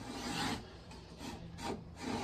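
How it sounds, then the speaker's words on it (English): A scraper with a contoured edge smooths the heel of a wooden guitar neck in slow, quiet strokes, three soft rasping passes with brief pauses between. "I use a scraper for that"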